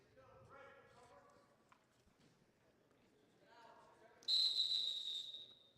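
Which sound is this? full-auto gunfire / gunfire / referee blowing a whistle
referee blowing a whistle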